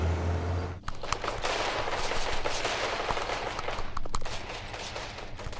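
Rapid gunfire, likely from a video game, bursts of dense crackling shots, steady and fairly loud, following a short quiet opening.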